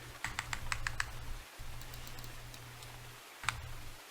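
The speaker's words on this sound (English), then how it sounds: "it's a really nice sounding keyboard." Clicky computer keyboard keys tapped in a quick burst of several strokes, then a pause and one last isolated keystroke, close and crisp over a steady low hum.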